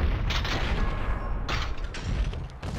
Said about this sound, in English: Oh, slow motion bullet time.